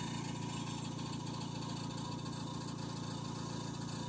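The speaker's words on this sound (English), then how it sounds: "That's what it sounds like when somebody tries to steal your exhaust system while you're at work." A car engine idles steadily with its exhaust system partly stolen, a loud unbroken rumbling drone with a harsh buzzing edge and no pauses.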